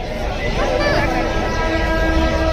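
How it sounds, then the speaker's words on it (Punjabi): A train rumbles past close by, a steady heavy roar with metallic squeals and a long horn-like tone, voices murmuring faintly underneath. "ਲੋ ਆ ਗਈ ਟ੍ਰੇਨ"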